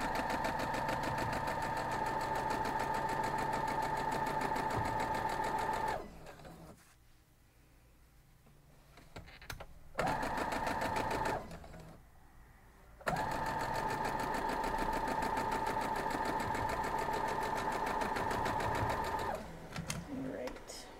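A sewing machine stitches a straight seam on a quilt block, running loudly and steadily in long bursts with two pauses and brief handling noises between them.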